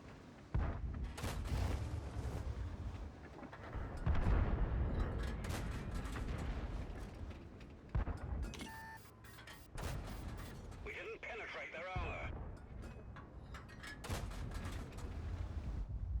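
Tank cannon fire in World of Tanks, heavy booming shots from the TOG and KV-2 tanks at close range, repeated blasts and mechanical clatter mixed with game effects under a talking player.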